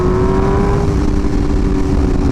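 A 2023 BMW S1000RR sport bike engine holds a loud, steady high-pitched drone close by, with no voices over it.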